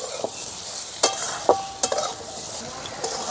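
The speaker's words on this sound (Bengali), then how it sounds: "আলু আর পটলটা ভাজা হয়ে গেছে" Potatoes and pointed gourd frying in oil with turmeric give a steady close sizzle, broken by a few sharp stirring scrapes spaced about half a second apart.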